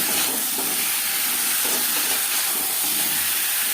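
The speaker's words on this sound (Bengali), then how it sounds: "লবণ হলুদ দিয়ে আলু হালকা করে ভেজে নেব" Potatoes frying in a pan with salt and turmeric over medium-low heat for a Katla fish curry, giving a steady, loud sizzling hiss throughout with no talking.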